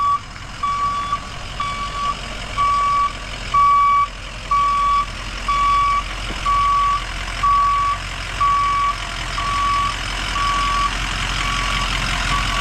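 An empty concrete truck backs up at a worksite, its reversing alarm beeping in a steady evenly spaced series of about a dozen tones over a low idling engine rumble, with no talking.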